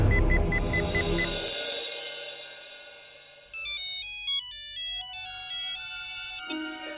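A phone rings while someone places a call. After a fading whoosh, a clear electronic ringtone plays a bright melodic beeping tune at moderate volume, with no talk over it.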